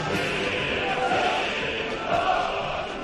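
Massed crowd at a rally roaring and shouting in a sustained, echoing wave that holds steady for a few seconds without breaks.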